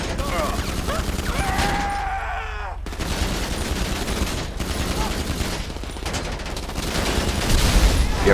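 Rapid bursts of AP pistol fire in GTA 5 Online, near and loud, repeating in quick volleys with brief gaps and continuing over a busy in-game combat background.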